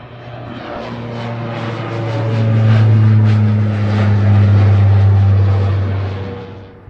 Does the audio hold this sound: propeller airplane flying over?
yes